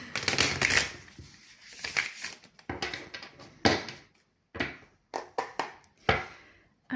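Tarot cards are shuffled by hand in a quick run of crisp riffling bursts, each separated by brief pauses, close and fairly quiet with no talking.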